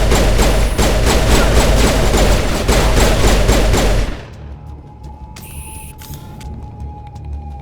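Enemies in Mass Effect 1 open fire, with loud, rapid bursts of gunshots hammering for about four seconds before cutting off abruptly, leaving quiet ambience with a few faint electronic tones.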